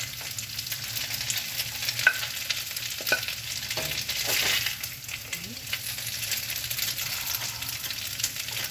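Lamb pasta is scooped from a hot pan onto a plate: a soft continuous sizzle runs under scattered scrapes and clinks of a utensil against the pan, fairly quiet and close.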